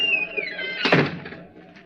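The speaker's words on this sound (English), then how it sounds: "Shut the door behind you." A door thuds shut in an old radio drama, a single solid knock cutting across a fading whistling tone, then a quiet tail of room sound.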